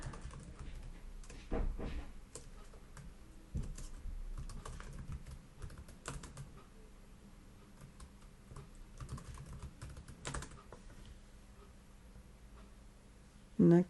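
Keystrokes on a computer keyboard as a root password is entered during a VMware vCenter Server 8U3 setup, soft irregular clicks in short bursts with a louder tap at the end.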